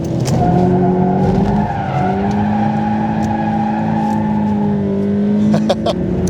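Subaru BRZ with a flat-four engine racing on a track, the engine holding a steady loud drone with rising pitch as tires squeal and skid, a few sharp clicks near the end.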